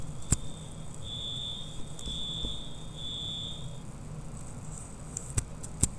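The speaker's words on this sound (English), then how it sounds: "They're testing the fire alarm in the background here." A building fire alarm under test gives three long, even electronic tones in a row, then stops, with a few sharp clicks and knocks around it in a quiet room.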